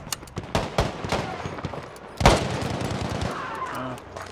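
Bursts of MG-34 machine gun fire in the Battlefield V video game, with sharp repeated shots scattered through the clip, a loud close burst near the middle, and a sustained rattle of battle noise afterward.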